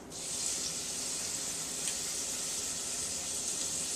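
Garlic, onions, sage, savory and rosemary frying with browned bacon in olive oil, a steady, even, faint hiss of sizzling with little variation, close by, no voices.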